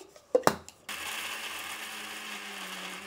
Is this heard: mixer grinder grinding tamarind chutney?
yes